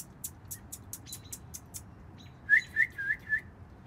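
A small bird chirps in a series of sharp, high tweets, first a rapid run of faint ticks, then four louder whistled calls close by against quiet outdoor background noise.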